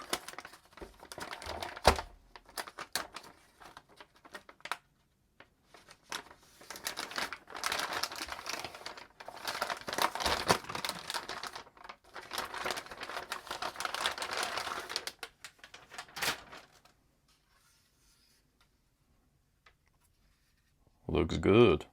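Thin plastic bag holding an ASUS Prime RX 9060 XT 16GB graphics card, sealed with tape, crinkles and rustles in dense, close bursts for about fourteen seconds, then falls silent before a brief final rustle.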